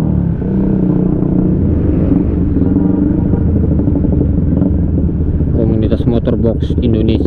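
A group of motorcycles rides on the road between Kabanjahe and Berastagi, with a steady exhaust rumble and sharp revving bursts near the end, all under wind buffeting.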